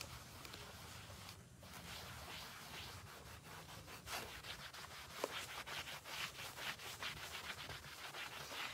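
A cloth buffs wax over painted wood furniture in a chippy barnwood finish, a steady close rubbing and scuffing with rhythmic strokes that build in pressure and carry on throughout without talk.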